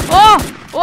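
Gunshots in the Roblox game Brookhaven Fire, a Brookhaven map mixed with Free Fire play: a loud, close burst of several quick cracks, followed by synthetic whooshing tones with no one talking.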